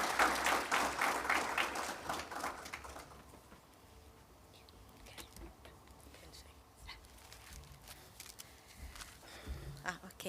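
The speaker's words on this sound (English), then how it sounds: "A round of applause as she comes up" An awards ceremony audience claps, and the applause is loudest in the opening seconds and then thins to scattered claps. A dog barks faintly in the background and voices murmur.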